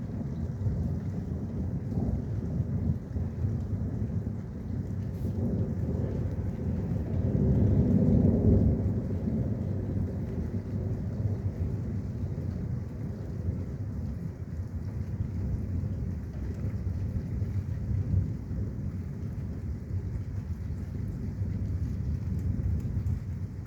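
Thunder rolls through an evening thunderstorm with steady rain, a loud sustained rumble building around the middle and continuing beneath constant rain noise, with no talking.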